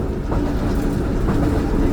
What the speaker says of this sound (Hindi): 9:40 पर नूर जंक्शन रेलवे स्टेशन पास हो रही है ट्रेन हमारी।